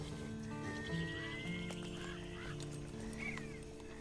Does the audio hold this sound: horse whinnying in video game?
yes